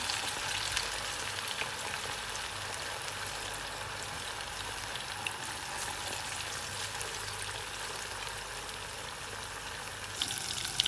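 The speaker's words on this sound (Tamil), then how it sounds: "நான் ரெண்டு மூணு தரம் போட்டு பொறிச்சு எடுத்துட்டேன்" Small anchovies (nethili) deep frying in hot oil, a steady dense crackle and hiss with fine popping that holds evenly throughout, close by with no talking.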